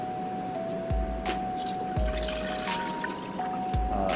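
Almond milk pours into a blender as a smoothie base, giving a soft liquid trickle punctuated by a few dull thumps at roughly one-second intervals, close by with no talking.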